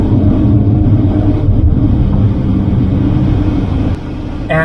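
A car drives along a road in Greece toward Marathon, heard from inside as a loud, steady low rumble of engine and road noise with no talking.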